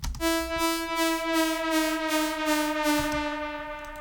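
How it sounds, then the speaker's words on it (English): A bright, buzzy synthesizer saw wave, used for synth-metal game music, holds steady with a gentle pulsing wobble, its pitch bending slightly lower toward the end, playing alone. "Just a saw wave, like there's nothing else on this one."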